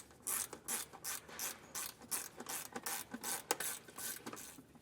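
Ratchet clicking in quick repeated bursts while removing screws from a trim panel during a base plate install on a 2025 Ram, close and fairly quiet with short pauses, no talk.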